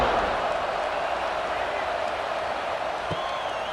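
In the College Football 26 video game, a simulated stadium crowd at an Alabama vs Florida State game keeps up a continuous, fairly loud roar before a kickoff, with no distinct peaks.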